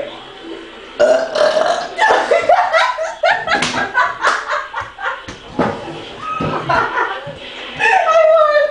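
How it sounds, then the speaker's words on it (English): Loud, drawn-out burps from a burping contest come in a rapid string, close up and rough, mixed with laughter and giggling from the people taking part. "I'm still burping. It's just coming out."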